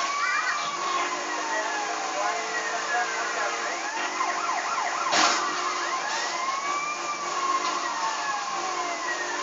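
A police siren in GTA: Vice City wails steadily with rising and falling sweeps, layered over game engine noise and ambient sound at a constant loudness for the whole stretch.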